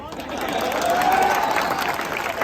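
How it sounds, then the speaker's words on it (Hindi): Crowd at an outdoor political speech applauding: a swelling wash of clapping and cheering from many people, moderately distant, rising in the middle and easing toward the end. "यार इस पे बजाओ रे तालियां"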